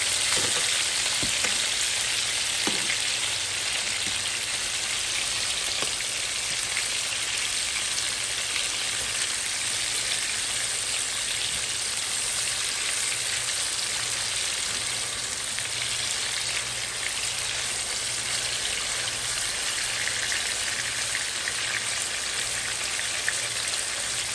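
Chicken pieces brown in a hot pan for smothered chicken, giving off a steady, even sizzle and crackle that holds throughout with no talking.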